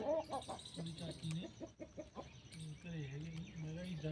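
Hens on a small farm cluck and squabble in hot weather, close by, with repeated short clucks and a few drawn-out calls. A voice can be heard faintly among the birds.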